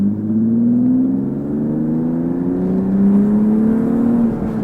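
A V4 car engine revving hard past 4,000 rpm during a test drive after a fan shroud install, a loud sustained climbing drone heard from inside the cabin, with no talking.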